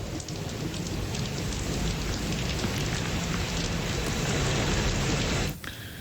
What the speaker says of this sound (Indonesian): Hujan yang mengguyur Jakarta seharian ini membuat sejumlah pintu air di Jakarta berada dalam status siaga 2.